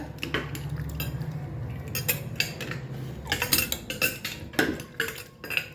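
A spoon stirs amla chutney in a metal pot, clinking and scraping in irregular bursts over a low rumble, close by and moderately loud, with no talking.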